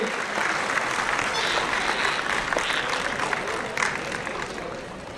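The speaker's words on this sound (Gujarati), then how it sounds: "આપણે સૌ તાળીઓના નાદથી આ ક્ષણને વધાવતા રહીએ." At a government ceremony in Bhavnagar, where Chief Minister Bhupendra Patel inaugurates development works and dignitaries light a lamp, a crowd gives sustained, dense applause for the whole stretch, with faint voices mixed in.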